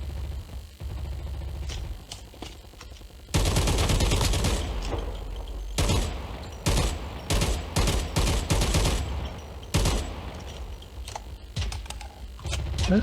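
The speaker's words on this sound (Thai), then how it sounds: "มีเสียงปืนข้างล่างครับ" Rapid bursts of gunfire in Call of Duty: Mobile crackle repeatedly, loud and close, with brief pauses between volleys over a steady background hum.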